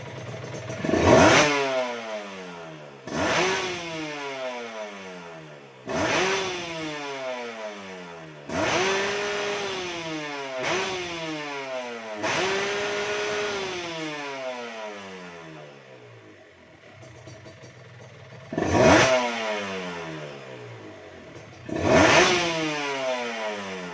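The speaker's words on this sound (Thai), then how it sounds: "อ่าเรามาดูรอบเครื่องยนต์กันนะครับ" A stock Kawasaki Serpico motorcycle with an aftermarket exhaust revs up repeatedly while standing still, giving about seven sharp throttle blips with rising whines that settle back to idle between them. It is loud and close, and no one talks.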